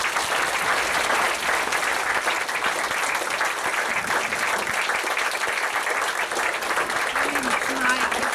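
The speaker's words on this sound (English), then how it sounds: "let's give a really another round of applause for Malak." Sustained audience applause fills a talk venue after an art lecture, a dense, even roar of many hands clapping that holds steady throughout, with faint voices underneath.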